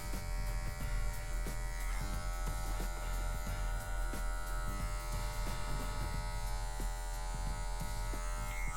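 Hair clippers fitted with a half guard cut a medium fade, giving a steady close electric buzz with a constant hum that runs unbroken throughout.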